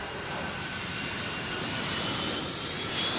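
A Boeing 777 jet airliner on a fly-by-wire test flight comes in to land, its engines giving a steady, loud, broad roar that swells slightly as it continues, with no voices.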